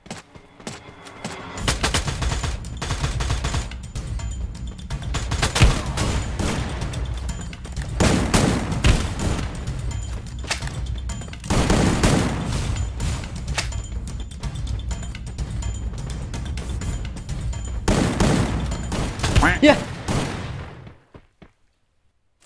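Bursts of gunfire from a shooting video game, with rapid automatic volleys and single shots in loud clusters separated by short lulls before the sound cuts off at the end.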